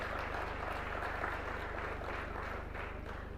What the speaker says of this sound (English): Can we have a huge round of applause for all of you present here?